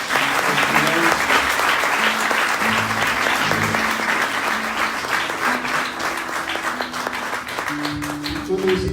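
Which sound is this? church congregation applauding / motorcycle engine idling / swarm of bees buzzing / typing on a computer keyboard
church congregation applauding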